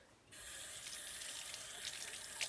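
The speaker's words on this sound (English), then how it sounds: "Rinse off your hands." A kitchen tap runs steadily while hands are rinsed during a baked onion-coated chicken cooking session. The water starts abruptly after a brief pause and then hisses evenly and close by.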